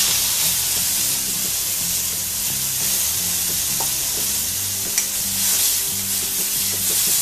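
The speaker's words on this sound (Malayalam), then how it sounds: "ടൊമാറ്റോയും വെളുത്തുള്ളിയും കൂടെ നന്നായിട്ടൊന്ന് വഴറ്റിയെടുക്കണം." Chopped tomato and garlic sauté in coconut oil for Kalyana rasam, a loud, continuous sizzle with steady stirring scrapes throughout, close and without talk.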